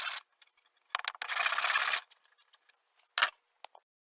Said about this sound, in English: And now a hand file to go through and smooth out all the chisel marks in my mortises